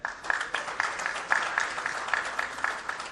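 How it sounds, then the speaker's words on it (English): Audience applause at a smartphone launch event, a sustained moderate patter of many hands clapping in a large hall, somewhat distant and even throughout. "So, huge round of applause for them."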